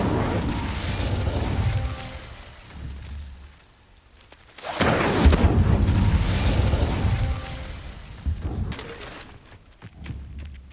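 Incendio fire spell cast in Hogwarts Legacy, booming bursts of flame with crackling debris, one blast near the start and a louder eruption midway, trailing off into rumbling game sounds.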